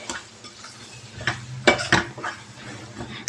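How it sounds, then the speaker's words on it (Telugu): Tempering spices including asafoetida fry in a pan for Indian amla pickle, with a spoon scraping and clinking against the metal amid a low sizzle, several sharp stirring knocks over a few seconds, close and without talk. "ఇది చక్కగా ఫ్రై చేయాలి."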